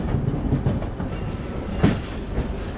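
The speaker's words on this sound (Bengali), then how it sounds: "নির্ধারিত টাইম থেকে 30 মিনিট লেট করে ট্রেন ছাড়লো হাওড়া স্টেশন থেকে" A passenger train runs along the line after leaving Howrah station, a steady rumble of wheels with rhythmic clickety-clack over rail joints, heard from inside the carriage.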